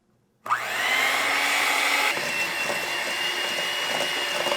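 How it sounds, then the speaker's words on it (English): An electric hand mixer switches on abruptly and runs with a loud, steady high-pitched motor whine while blending banana bread batter, shifting slightly partway through. "I'm gonna use a hand mixer, and cover your ears because I don't wanna bother you with the sound"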